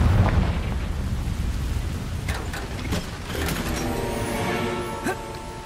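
The Confringo blasting spell from the Hogwarts Legacy video game erupts in a heavy rumbling explosion at the start, then settles into a crackling, debris-scattering roar with faint clinks and tonal effects trailing after.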